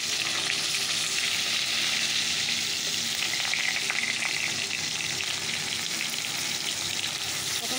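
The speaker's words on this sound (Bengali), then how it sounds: "কড়াইয়ে তেলটা দিয়ে দিয়েছি, পটলটা দিয়ে দিই" Pointed gourd (potol) frying in hot oil in a wok, a loud, steady hiss and sizzle with faint crackles throughout and nobody speaking.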